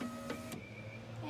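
A 2006 Toyota Highlander power window motor with loose mounting screws whirs steadily with a faint mechanical rattle and a couple of brief clicks, close and quiet.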